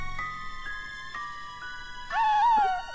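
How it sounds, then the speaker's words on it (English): A small creature whimpers in Star Fox Adventures, sounding as a high, wavering whine that rises and trails off near the end, over steady synthetic game tones. "Whimper?"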